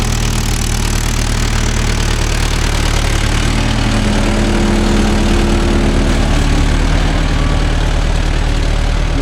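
A Mahindra Yuvo Tech Plus 585 4WD tractor with a raised cultivator runs steadily while turning in a field, a close, constant low diesel rumble with a slight shift in tone midway.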